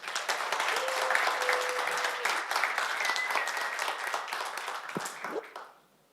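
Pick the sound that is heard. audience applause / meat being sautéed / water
audience applause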